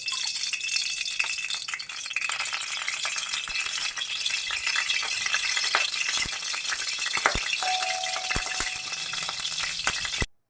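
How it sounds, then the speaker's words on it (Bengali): Pointed gourd pieces fry in hot oil in a kadai, giving a loud, steady sizzle with occasional clinks and stirring rattles throughout. "একে একে পটলগুলো দিয়ে ভেজে নেবো।"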